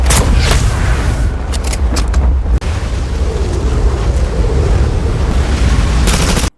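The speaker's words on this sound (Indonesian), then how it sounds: "disitulah adegan tembak-tembakan pun pecah" Gunfight in an action film scene set inside a ruined building hideout: heavy booming shots and sharp cracks ring out over a dense, continuous roar, loud and close throughout.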